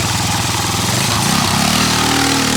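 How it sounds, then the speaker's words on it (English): Mini dragster with twin 212 cc engines, side-draft carburetors and dual exhaust, running loud and close with a steady rough idle that rises into a revving engine roar. "twin engine dragster, mini dragster, twin 212 cc's, side draft carburetors, disc brake, dual exhaust"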